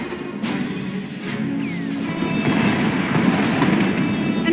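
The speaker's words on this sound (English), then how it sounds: "Enemy is firing. Turbo lasers, missiles, and what looks like transport pods." Warship turbolaser and missile fire in a Star Wars space-combat game: a sharp blast opens, then a dense, crackling rumble of shots and explosions swells and keeps rolling, loud and close, with no voices.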